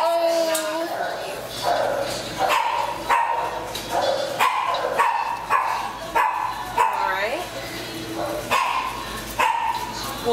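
A small Cocker Spaniel at an animal shelter barks, yips and whimpers in repeated close bursts, loud and lively, with people's voices mixed in.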